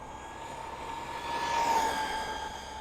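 An MJX 12212 RC car's electric motor at full throttle gives a steady high-pitched whine that rises and peaks midway, then eases slightly, with no talking.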